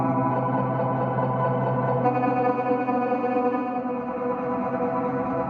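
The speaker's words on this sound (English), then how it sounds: "Some reverb," An RnB sample chopped in Serato Sampler with a stutter effect and drenched in reverb, playing as sustained, washy tonal layers with a thick echoing tail and a slight shift partway through, no voices over it.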